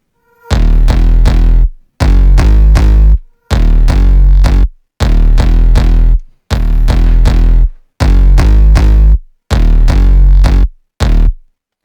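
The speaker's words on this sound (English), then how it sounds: "Then I have this bass." A future bass track's bass line plays alone as loud, chopped synth chords, eight rhythmic bursts with sharp gated pulses inside each and brief gaps between, repeating steadily.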